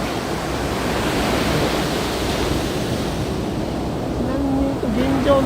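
Dumping surf breaks on Hiratsuka beach in Shonan, a steady broadband roar of waves with wind noise on the microphone, continuous and fairly loud throughout.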